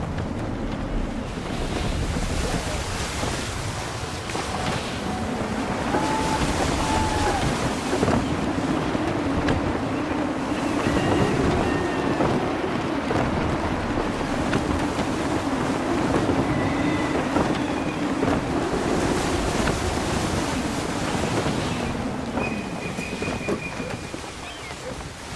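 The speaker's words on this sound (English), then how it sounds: "Gusty winds can be difficult to manage." Sailing ship at sea in Assassin's Creed III, with gusty wind buffeting and waves rushing in a steady loud roar, plus occasional faint creaks and calls.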